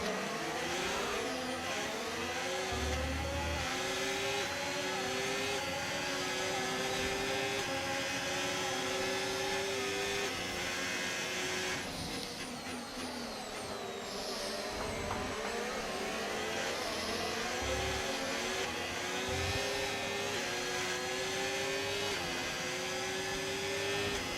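Racing-car engine in the F1 25 game, running with a fault, holds a loud continuous whine through the whole stretch, its pitch rising and dropping with gear changes, with faint talk beneath it.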